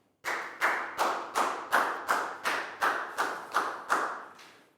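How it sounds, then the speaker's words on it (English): A classroom group giving a student a round of applause, about ten loud, evenly spaced claps in a steady rhythm, close and unaccompanied by speech. "High five and a big round of applause for Nadia"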